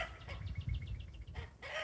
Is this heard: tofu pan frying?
no